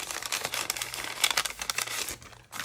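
Plastic packaging is crinkled and torn open up close, giving a busy run of rustling, crackling rips with a brief pause near the end.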